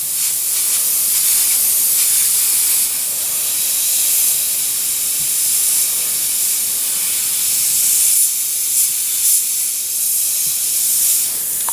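An airbrush sprays paint for preshading with a steady, close, loud hiss that runs almost unbroken, swelling and easing slightly as the trigger is worked.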